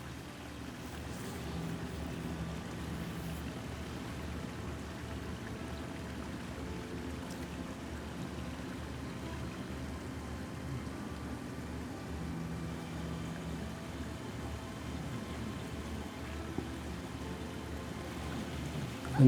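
A backyard pond waterfall in a shaded Midwest water garden flows steadily, a soft, even rush of splashing water heard close by with no voices over it.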